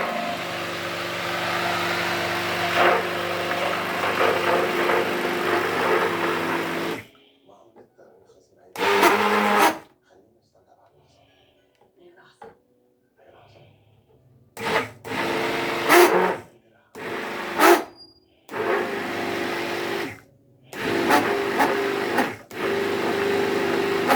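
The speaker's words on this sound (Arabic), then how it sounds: "هوريكم بس هنعمله ازاي بالهاند بلندر" A hand blender whirs through tamarind juice in a kitchen in a long steady run, then in several short bursts separated by pauses.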